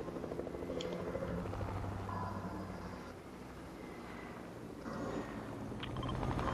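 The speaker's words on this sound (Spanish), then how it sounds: "Un helicóptero." A helicopter in the battle royale game Fortnite drones with a steady rotor throb and engine hum, holding close and loud throughout, its pitch shifting slightly as it moves.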